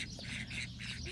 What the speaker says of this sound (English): These are cull ducks.